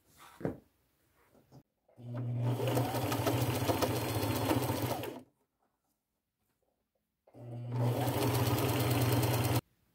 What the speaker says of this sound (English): I'll get those sewn on as well